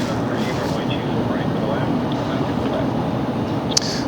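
A jet airliner with Pratt & Whitney engines heard from behind at LAX, a steady broadband roar that holds loud and unbroken throughout with no talk.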